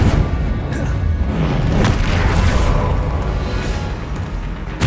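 Spell explosions from Confringo in the Hogwarts Legacy video game, a dense, loud, sustained roar of booms and crashes that rolls continuously without clear gaps, with faint whooshing layered in.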